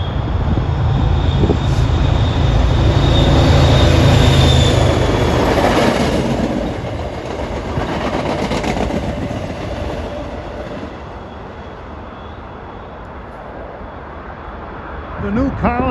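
An MBTA commuter rail train bound for Greenbush, older locomotive power on the point, rolls past loud and close, wheels clicking and squealing, then fades; a voice comments briefly over the passing cars.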